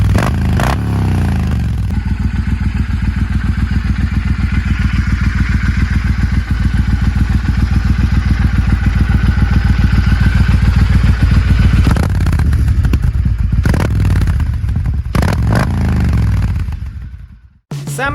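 A cruiser motorcycle engine runs loud and close with a steady, thumping pulsing beat, holding a rough idle and then lifting into a few revs before cutting off abruptly near the end.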